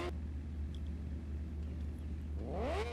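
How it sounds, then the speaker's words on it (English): A motorcycle engine in the racing game RIDE 4 holds a low, steady idle hum, then revs up sharply with a rising whine near the end. "There we go, I rev it out."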